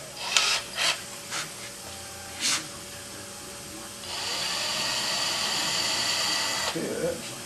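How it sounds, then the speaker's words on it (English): Power drill with a number 40 bit boring a hole during a Grumman-style aircraft navigation lens replacement; a few short bursts of drilling give way to a longer steady whine near the end. "drill this hole up here at the top."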